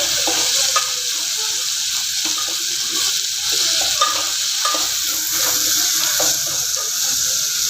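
Curry leaves, tomato, chili, potato and onion fry in a pan with a loud, steady sizzle throughout, broken by occasional stirring scrapes close up.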